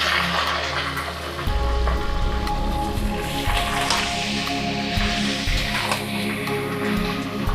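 Mutton sizzles in a pan as it is stirred, a dense, close frying hiss with scraping and spattering crackles, continuous and without talk.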